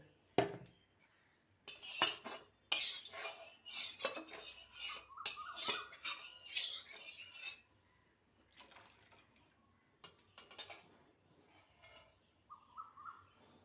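A kadai being washed in a home kitchen: bursts of metallic clanking and scrubbing with splashing water, close by, separated by quiet pauses and a few softer knocks toward the end.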